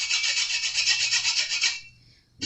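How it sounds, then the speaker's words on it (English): A flush cut saw rasps steadily across wooden plugs on a guitar during a strap button repair, a close, continuous scraping of quick strokes that stops abruptly, leaving near silence. "No, we just use a flush cut saw."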